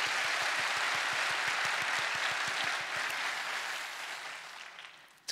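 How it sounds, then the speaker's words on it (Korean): Church congregation applauding in thanks to God at a Korean thanksgiving night service, a thick steady roar of many hands, joined early on by a regular low thumping beat, then easing off toward the end. "하나님께 다시 한번 감사의 박수 드리겠습니다"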